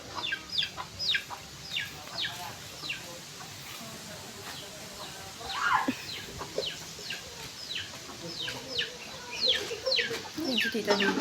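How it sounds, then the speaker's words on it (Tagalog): A flock of chickens at a rural family home cluck and chirp repeatedly in quick, overlapping bursts, some near and some farther off, over a quiet background. "Maraming mga manok."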